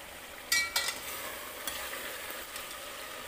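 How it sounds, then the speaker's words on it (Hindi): Yogurt and tomato puree fry on a high flame for chicken biryani, giving a steady close sizzle with a few sharp stirring clatters near the start and no talk. "अब इसमें डालेंगे टमाटर की प्यूरी, इसको भी भूंज लेंगे। इन सबको हमें तेज आंच पे भूंजना है।"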